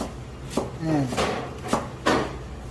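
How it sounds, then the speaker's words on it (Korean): A knife cuts vegetables into thin 3 mm slices on a cutting board while preparing doenjang jjigae, giving four sharp chops spaced through the clip between scraping movements. "아주 작게 이렇게 썰어 주시면 됩니다"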